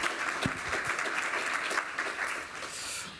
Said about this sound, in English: So applause, please, for Cyrine.